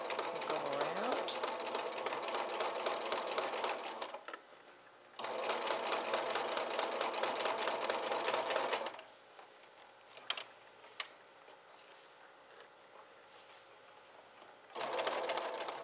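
A sewing machine stitches a ruffle onto a pettiskirt in close, quiet bursts of rapid ticking, with two long runs and a shorter one starting near the end, separated by pauses with a few faint clicks.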